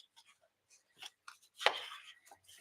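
Two-tone paper is chopped for card making. Faint, scattered cutting sounds come in short quiet strokes, with one louder, longer cut near the middle of the clip.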